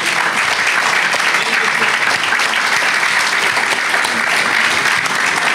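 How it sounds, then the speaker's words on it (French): Audience at a lecture and discussion with Bernard-Henri Lévy applauding, a dense, loud, sustained wash of clapping from a large crowd filling the room without letup. "on l'applaudit"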